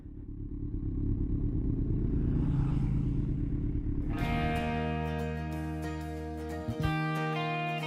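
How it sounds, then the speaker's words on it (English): Kawasaki Z1000 motorcycle flying by at a bike night in the evening, its engine swelling as it approaches, then a sharp rising note and Doppler drop as it passes close, fading afterward. "Time for a Graham flyby."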